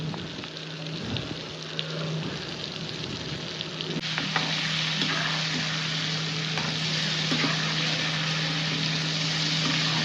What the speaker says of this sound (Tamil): இப்போ அதிலே பொரிச்சு எடுத்துக்கணும். சிம்மில் வச்சு பொரிக்கணும்.